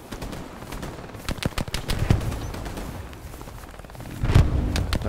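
A war video game battle with sniper rifle fire: sharp gunshots crack repeatedly over a busy background of other shooting, and two heavier booming shots stand out.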